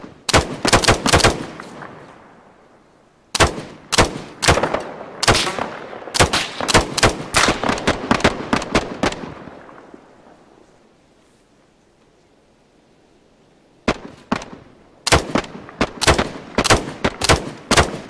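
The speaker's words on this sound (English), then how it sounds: "I'm taking shots from east and south." Loud, close gunfire in a firefight cracks out in rapid bursts and single shots, breaking off into a few seconds of quiet before heavy firing resumes.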